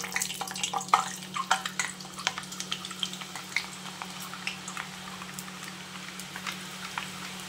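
Sev dough sizzles and bubbles in hot oil, a steady crackling fry with scattered pops, loudest at first and settling into a softer continuous hiss.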